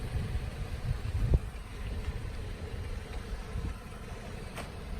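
A car creeping forward during a driving road test, heard as a low, steady engine rumble with wind buffeting, one brief bump near the start, no voices.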